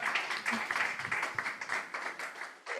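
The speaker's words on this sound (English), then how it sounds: "Can we clap for Mrs. Afan again?" An audience at a panel on gender-transformative agriculture in Africa applauds a speaker, the steady, moderately loud clapping of a modest room continuing evenly for about three seconds before it tails off.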